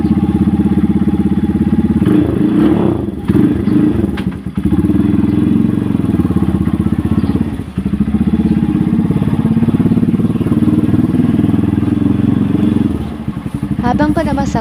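A motorcycle pulls slowly out onto the road on a charity ride, its steady mid-pitched engine hum continuous and close, with a few thumps and clatters along the way.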